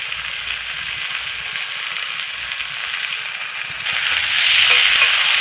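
Cabbage fries in a pan with a steady, close sizzle that grows louder toward the end, while it is stirred among other vegetables.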